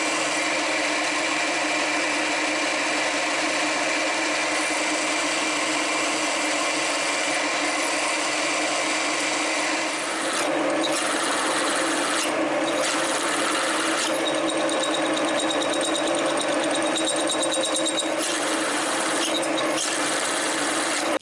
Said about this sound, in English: So let's bore a hole in here.